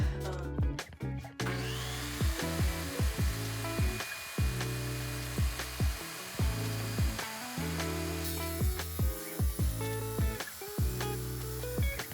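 A power tool cuts bathroom floor material to fit during a renovation: a close, loud run of repeated short whining cuts, each rising and falling, with brief gaps between them and no speech.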